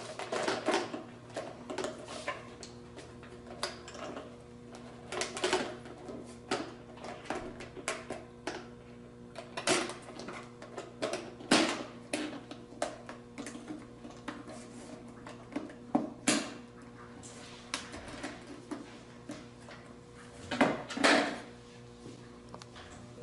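A plastic cowl induction vent being fitted and snapped into place on a Yamaha 450 Ninja snowmobile, heard as a series of faint, close clicks and plastic knocks scattered across a quiet stretch of work.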